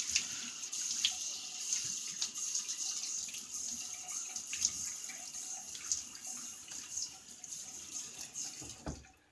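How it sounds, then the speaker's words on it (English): Water runs steadily from a bathroom tap into a sink as a face is wetted before shaving, a constant close splashing with small clinks and handling noises, ending with a sharp knock. "Let me get my face wet."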